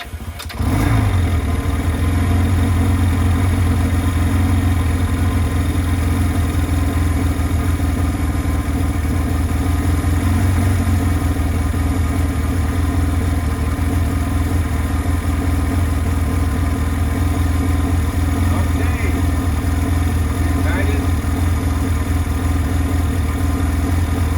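Choked motorcycle engine, fuel petcock open, fires up on the electric start button and settles straight into a loud, steady, close idle that runs unbroken for over twenty seconds.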